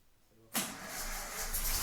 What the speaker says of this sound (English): And here we have the first start.